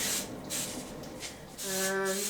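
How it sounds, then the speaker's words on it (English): Hairspray is sprayed onto a wig in repeated short pulsing hisses, close and fairly loud, with a brief tonal hum partway through. "So next thing is to put a little bit of hairspray just to get started with the spiking."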